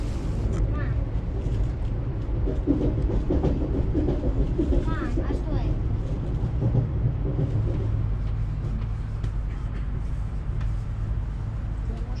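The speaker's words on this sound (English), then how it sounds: "Today I'm taking the passenger train to Karelia." A Siemens passenger train bound for Karelia rumbles along the rails with a steady low roar and faint rattling, heard from inside, with voices murmuring underneath.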